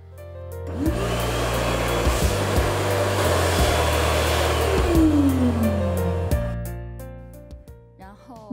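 A hand dryer in a factory hygiene area roars steadily as washed hands are dried, a loud close blast that starts, holds for several seconds and then winds down.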